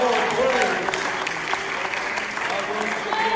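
A church congregation claps at a Sunday morning service, a steady mass of hand claps that runs the whole time and mixes with faint singing or talk.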